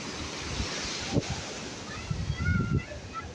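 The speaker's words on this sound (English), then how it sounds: "Yeah, these giant waves are excellent, and they're the salt water." Large Atlantic Ocean waves breaking on the beach at Ocean City, a broad steady wash of surf with low rumbling surges and some wind buffeting the microphone.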